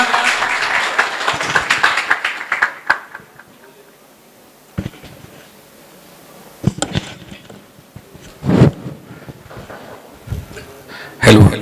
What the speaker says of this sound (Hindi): जोरदार तालियों से स्वागत कीजिए इनका